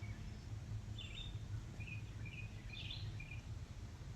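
Faint, scattered chirps from birds living in a tree ring out as short high calls over a low, steady outdoor hum, quiet and somewhat distant, with no talking.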